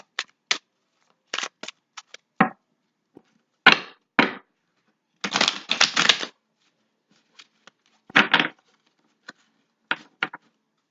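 Tarot cards being shuffled by hand in short bursts of riffling and flicking, some quick and crisp, others longer and rustling, with brief pauses between and no talk.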